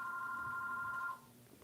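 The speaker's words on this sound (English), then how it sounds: "that phone should not be ringing" A telephone rings in a steady electronic tone, moderately faint, then stops partway through, leaving quiet room background.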